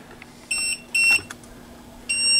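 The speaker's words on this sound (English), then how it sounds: "Our press is going to beep." A sublimation mug press beeps loudly and nearby, three shrill electronic tones in an uneven series, the last one held on, with faint hum between them.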